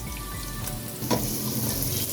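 Chopped onion frying with whole spices such as cloves and black cardamom, heard as a dense, steady sizzle with one brief stir or scrape partway through, close up and alone.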